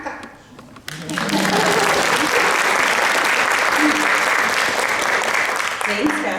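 Audience applause at a morning grantmakers panel: a brief murmur of voices, then a loud, dense, sustained ovation from many hands that holds steady for about five seconds.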